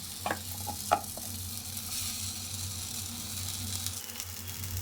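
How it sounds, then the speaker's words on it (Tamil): Mashed raw banana is stirred in a hot pan, a close, continuous sizzle with a couple of sharp spoon scrapes near the start and a low steady hum underneath, no voices. "போட்டு அப்படியே ஒரு கிண்டிடலாம்"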